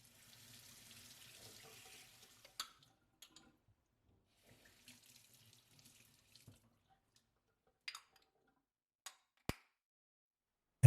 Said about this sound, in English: Clean out the portafilter under a tap.